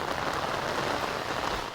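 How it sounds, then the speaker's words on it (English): Steady rain pattering on surfaces at an outdoor news reporting spot during rush hour, a dense, even hiss of drops that holds constant throughout with no voices. "sounds like it's pretty rainy where you are, Sarah"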